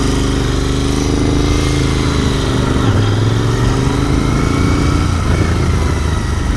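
A 2019 Royal Enfield Continental GT 650 twin idles steadily with a low, loud engine burble that holds for several seconds, its pitch wavering as the revs rise and fall slightly.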